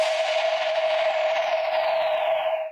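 The snare preset plays as a single sustained noisy hit with a bright ringing tone, its hiss slowly darkening over almost three seconds before cutting off abruptly.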